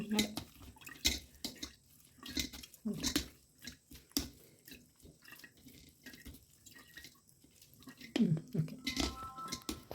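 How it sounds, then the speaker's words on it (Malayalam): Liquid drips and splashes irregularly as beetroot is squeezed by hand for beetroot wine, with soft trickles under people talking nearby. "ശബ്ദം വെള്ളം വീഴുന്ന ശബ്ദം കേൾക്കാനുണ്ട്"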